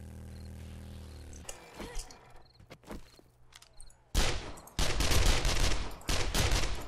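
Bursts of automatic gunfire from a weapon in the survival game 7 Days to Die, starting with scattered single shots and turning into loud, dense sustained volleys in the second half.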